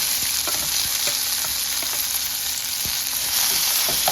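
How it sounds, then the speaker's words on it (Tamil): Onion, tomato, dried red chillies and tamarind frying in a pan for urad dal tomato chutney, a loud steady sizzle with occasional spoon taps and stirring clicks, close and alone. "வெட்டி வச்ச வெங்காயம், தக்காளி எல்லாம் போட்டு, வரமிளகா, புளி எல்லாம் போட்டு நல்லா வறுக்கணும்"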